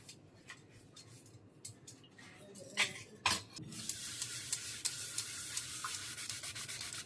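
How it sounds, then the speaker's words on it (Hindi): Utensils being scrubbed and washed with Pitambari powder in a home kitchen, giving soft scraping and rubbing strokes with a few sharper clinks of metal pots, steady and close, no talking. "अभी डेली वाला जो बर्तन है ना, उनको मैं पीताम्बरी से ही धोती हूँ।"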